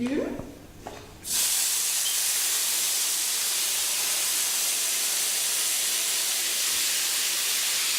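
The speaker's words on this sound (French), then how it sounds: "Tout griller d'abord, griller les les légumes." Vegetables sizzle on a grill with a loud, steady hiss that starts abruptly after a brief quieter moment and continues unbroken to the end.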